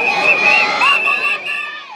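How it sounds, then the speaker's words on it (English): Excited crowd gathered at an international airport for a presidential reception, a loud, dense roar of cheering and shouting voices with high-pitched yells, sustained throughout and dipping slightly near the end. "The crowd is charged and excited."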